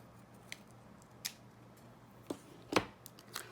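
Scissors trimming material, a few sparse, quiet snips spaced irregularly over a faint background hum, close by, with no talk.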